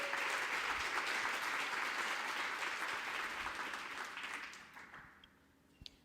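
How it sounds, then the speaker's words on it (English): Audience applause at a conference opening, a dense steady wash of many hands clapping that holds strongly for several seconds, then thins and fades out, leaving a few scattered claps at the end. "let's give an extra round of applause to those guys"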